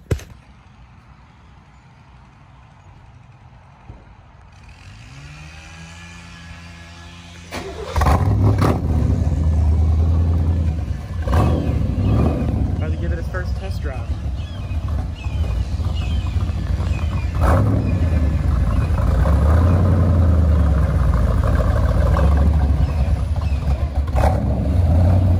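A 1986 Chevrolet Corvette C4 V8 runs quietly at first, then roars loudly as it gets underway and keeps up a strong, steady engine drone while driving down the road, with no voices.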